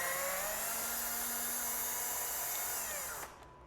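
A power drill whirs steadily at high speed, backing out a tail light bolt on a 2025 Ducati Panigale motorcycle. The loud, close whine holds for about three seconds, then cuts off and spins down.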